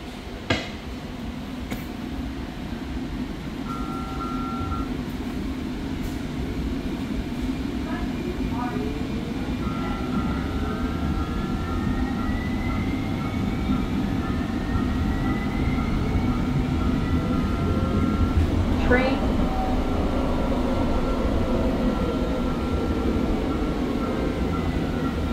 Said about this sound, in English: Sunrise-bound Gold Line train.